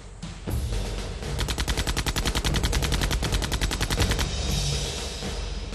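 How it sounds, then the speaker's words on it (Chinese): Rapid automatic gunfire in an action film battle scene, a dense, loud burst of evenly spaced shots lasting several seconds before cutting off, with no speech over it. "等他换下一个开枪的时候一起射击，他们的枪声会把我们枪声掩盖住"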